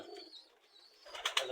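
Several breeds of domestic pigeon, including white and teddy types, coo softly in a loft, brief low calls that swell into a louder burst near the end, with no talking.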